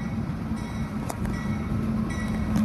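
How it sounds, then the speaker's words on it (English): A freight train led by locomotive NR66 rumbles past, a steady low rolling drone with faint wheel clicks, moderately distant and consistent throughout. "The leading loco is NR66."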